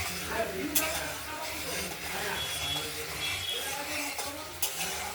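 A pabda fish curry with potato and tomato is stirred and sautéed in a pan, giving a steady soft sizzle with occasional scraping and clinking of a utensil, up close.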